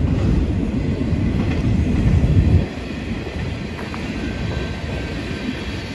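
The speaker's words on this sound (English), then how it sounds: "Looks like we are going to have to wait for the train." A train rolls past close by on a city walk, a loud continuous rumble and rattle that fills the whole stretch, swelling slightly before easing to a steady lower roar.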